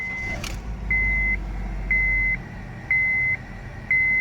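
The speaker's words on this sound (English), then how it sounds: "You can see my car is running." A Honda Acura fitted with an aftermarket remote start system rumbles low for a moment while steady electronic beeps repeat about once a second, close and clear.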